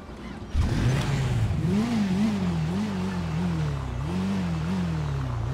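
Small motorbike in the video game GTA V riding down a street, a steady engine drone that rises and falls in pitch as it speeds up, continuous and close, with no talk.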